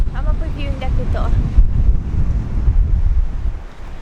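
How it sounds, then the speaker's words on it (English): Heavy wind buffeting the microphone in a constant low roar at the Bay of Fires coast, with a brief voice speaking at the start, then only blustery gusts. "it's so windy, no flying"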